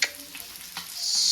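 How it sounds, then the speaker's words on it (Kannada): Fish sizzling and frying in a pan in a home kitchen, a steady close hiss that swells toward the end, with faint stirring clicks and no voices. "fish fry"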